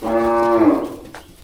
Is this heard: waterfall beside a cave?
no